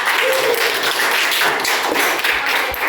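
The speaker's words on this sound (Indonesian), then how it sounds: "Beri tepuk tangan dulu kepada Bagas." A classroom of students applauds Bagas after his talk on simple and compound interest, with steady, dense clapping close by and some thumps mixed in.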